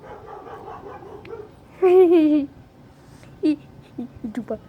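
A dog barks outdoors, a louder whining bark followed by a few shorter yips and barks, with quiet talk in the background.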